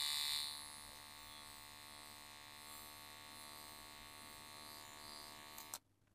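A women's electric trimmer buzzes steadily while removing upper lip hair, a close, even motor hum that runs for about six seconds before switching off abruptly near the end.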